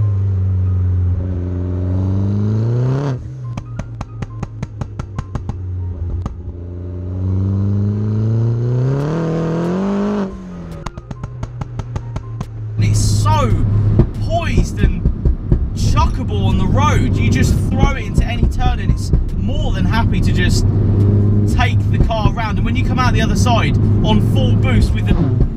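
A Mini John Cooper Works R56, tuned to about 300 bhp, revving hard on the road, its engine note climbing and dropping through gear changes with popping and banging from the exhaust, while people talk over it.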